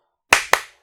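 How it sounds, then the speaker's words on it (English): Children clapping hands in answer to an odd number: two sharp, close claps about a fifth of a second apart, alone in silence. "Clap if you see an odd number."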